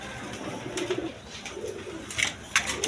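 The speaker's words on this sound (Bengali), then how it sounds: "এখানে এক পেয়ার শৌখিন কবুতর আছে একদম বিগ সাইজের দেখার মতো কবুতর" Fancy big-sized pigeons, a pair in a large cage, cooing in soft low repeated calls, with a few sharper chirps and background noise nearby.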